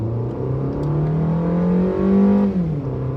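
A 2025 Suzuki Fronx with a 77 kW engine accelerating hard through the gears, heard from inside the cabin as a loud, steady engine drone that rises in pitch, dips briefly at a shift, then climbs again, with no talking.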